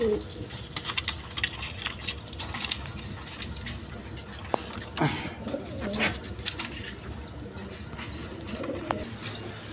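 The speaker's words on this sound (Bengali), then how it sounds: "লোটন কবুতর।" Lotan pigeons coo softly and repeatedly at a market stall, with low, rolling calls running under scattered clicks, clatter and background noise.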